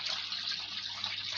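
Water poured by hand into a Defy front loader washing machine, a brief steady gushing splash, soft and close, with no speech.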